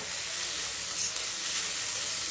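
Poha stir-fried with onions and salt in a pan, giving a loud, steady sizzle with a faint scrape of the spoon partway through.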